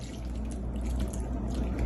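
Water pours steadily into a microwave-safe bowl in a home kitchen, a soft continuous rushing and splashing heard close up without talk.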